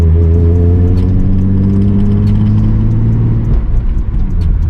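A Nissan 350Z with a manual gearbox drives along, its engine droning loud and close under steady load before the tone drops abruptly as the revs fall near the end.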